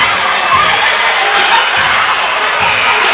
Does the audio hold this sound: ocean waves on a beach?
no